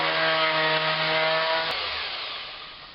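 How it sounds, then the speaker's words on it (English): A power sander smooths the rough, shaggy side of a 2x3 wooden board with a loud, steady whir. It then drops off and winds down, with no speech. "Some of these 2x3s are a little shaggy feeling on one side, so I'm going to go ahead and give those a bit of a sand"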